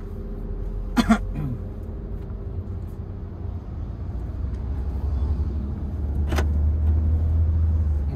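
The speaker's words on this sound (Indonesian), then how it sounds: "angkat kopling perlahan baru kita tambah gas" Car engine accelerating as the clutch is released in first gear, a low steady engine rumble that swells gradually toward the end, with a couple of brief coughs or throat clears early on.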